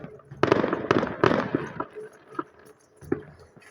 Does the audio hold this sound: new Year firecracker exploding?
yes